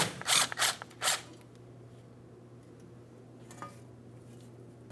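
Ratchet clicking as it loosens the final bolt on a front brake backing plate of a 2015–2025 Ford Transit, a few quick close ratcheting bursts at the start, then a low steady hum and faint scattered ticks.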